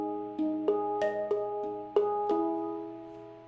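Handpan struck in a slow pattern of single and paired notes, each ringing tone overlapping the next as it sustains and fades, quiet and close, no voices.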